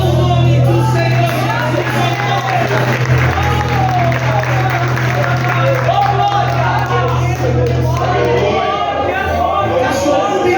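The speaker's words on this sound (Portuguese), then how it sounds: "aplauda o nome do Senhor" A church congregation applauds during a worship service, a dense, loud wash of clapping and crowd noise that runs the whole time, with a steady hum and raised voices mixed through it.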